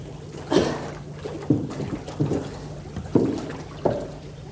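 A paddle dips and pulls through water during a timed game challenge, with about five splashy swishes at irregular intervals over a low steady hum, close by.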